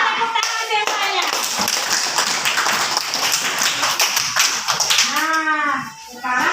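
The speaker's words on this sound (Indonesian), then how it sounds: "tepuk tangan semuanya" A classroom of children clapping together in a steady burst of fast, dense hand claps, close and loud, with children's voices mixed in and a voice speaking as it ends.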